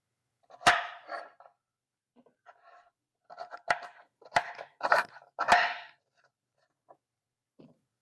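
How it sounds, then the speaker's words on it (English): A knife rough-cutting organic carrots into chunky pieces for chicken soup, heard as scattered crisp crunching chops on a board, a few grouped together, close but fairly quiet. "just do a little bit of a rough cut, like nice and chunky"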